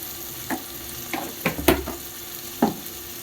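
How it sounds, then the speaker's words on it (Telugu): Onions with a little salt frying in a pan for a Konaseema-style mutton curry with raw cashews and drumsticks, a low steady sizzle broken by several short stirring scrapes, with no talk. "ఉల్లిపాయల్లో కొద్దిగా ఉప్పు వేస్తే బాగా వేగుతాయి"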